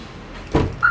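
A Mahindra XUV500 W8 automatic driver's door shuts with a single solid thump partway through, followed by a brief tonal electronic beep, heard close against quiet background hum.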